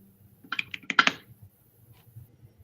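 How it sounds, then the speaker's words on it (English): Quick typing on a computer keyboard, a short flurry of crisp clicks clustered in about half a second, then faint low murmuring in the background. "Who's typing in?"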